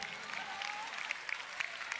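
A church congregation claps along during gospel praise and worship, steady crowded applause with sharp individual claps popping out, a faint voice-like tone drifting underneath.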